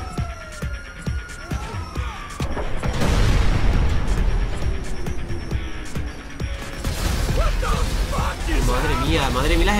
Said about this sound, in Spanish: Madre mía, las explosiones